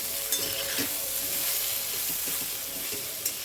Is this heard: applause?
no